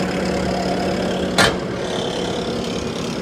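A 2022 Bobcat T740 OROPS skid steer engine idles steadily at close range, a constant mid-low running drone with one brief broadband burst partway through and no talk over it.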